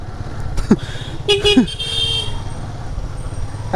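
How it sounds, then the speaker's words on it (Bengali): Motorbike horn on the road giving a few short toots over idling engine and traffic hum, with a voice speaking briefly in between. "এই হরণ দে"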